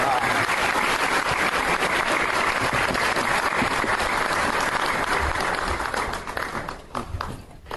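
A large audience gives a Hall of Fame inductee a round of applause at a Weakley County Schools Hall of Fame event, loud sustained clapping that thins out and fades near the end.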